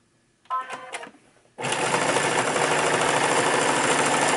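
A sewing machine stitches a darted fabric mask: a short burst of stitching, a pause with light handling, then a loud, steady, continuous run of the motor and needle right up close.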